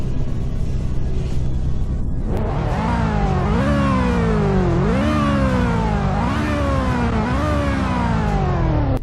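A Wyvern car in the Roblox game Greenville revs its engine loudly and alone, the game-engine tone climbing and dropping back in four or five repeated rising sweeps after a quiet start.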